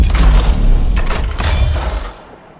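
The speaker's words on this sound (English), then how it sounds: "That's his big siege cannon." Heavy weapon fire from the Colossus javelin's siege cannon in the video game Anthem, a loud, deep booming blast with rumbling low end and crashing impact texture that fades over about two seconds.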